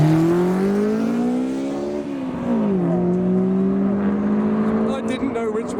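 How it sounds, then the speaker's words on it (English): A matte turquoise Hillman Imp drives off from a car show with a close, loud buzzing engine note whose pitch rises, dips and climbs again as it pulls away, with no one speaking. "There we go, the matte turquoise Hillman Imp."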